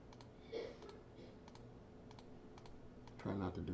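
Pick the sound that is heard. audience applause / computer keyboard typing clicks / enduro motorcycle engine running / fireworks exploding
computer keyboard typing clicks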